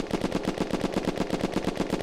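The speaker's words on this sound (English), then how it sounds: "So I'm going to do a quick test of it without the muzzle brake on it" Rapid automatic gunfire from a rifle fired without a muzzle brake in the video game Unturned, a steady stream of about five shots per second that carries loud and unbroken throughout.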